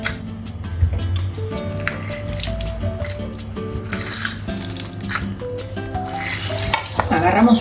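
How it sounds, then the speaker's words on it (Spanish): A wooden spoon stirs a lemon juice marinade for spicy Italian pollo alla diavola, with close, repeated wet scraping and sloshing strokes over steady background music. "mezclamos todos los ingredientes"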